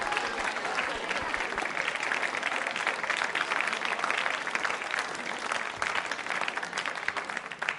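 A school audience at a quiz show applauds loudly and steadily, dense clapping filling the whole stretch with no break and no clear voices over it.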